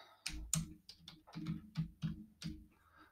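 Keys clack on a computer keyboard while someone types a title, a quiet, close series of uneven taps in short bursts with brief pauses between them.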